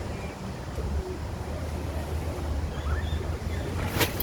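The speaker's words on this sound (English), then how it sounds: "This wind, oh my word. It's so windy." Strong wind buffets the microphone with a constant low roar, a steady gusty rumble with no voices.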